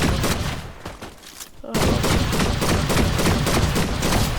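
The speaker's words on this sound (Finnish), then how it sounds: "tää ampuu ihan pirun nopeasti, sit tää vielä räjähtääkin" Exploder rifle in the Fortnite video game firing rapidly, a dense loud burst of shots and explosive cracks that dips briefly, then resumes as a steady rapid barrage.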